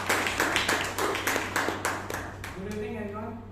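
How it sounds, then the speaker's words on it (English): Audience applause at a Toastmasters meeting in Bangalore: a few people clap in an uneven rhythm for about two and a half seconds, then a voice starts speaking as the clapping stops. "Please give a big round of applause."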